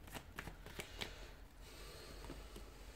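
Tarot cards shuffled by hand in quick riffling bursts with crisp flicks and taps, close and alone, no talking.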